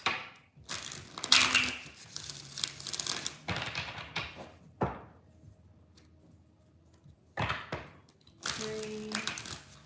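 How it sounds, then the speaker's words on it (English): Tarot cards being shuffled up close in several bursts of riffling and crisp card slaps, separated by quiet pauses, with no talking. "We're going to do 4 more shuffles."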